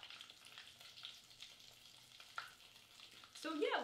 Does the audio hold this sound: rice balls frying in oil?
yes